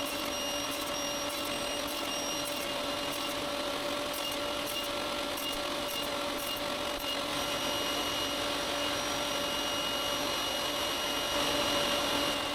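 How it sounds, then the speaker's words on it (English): A table saw with a sled cuts a wooden piece for a portable beer bottle rack, a loud, constant machine whine and hum that holds steady throughout. "Then I cut away what remains down to the short side."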